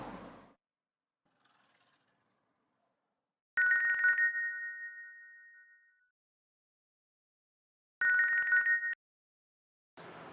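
A telephone rings back during an outgoing call, two long electronic ringing bursts a few seconds apart against near silence, clear and moderately loud.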